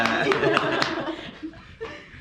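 Children in an arithmetic lesson give a quick round of clapping for a classmate, a few sharp hand claps near the start that fade out under laughter and chatter.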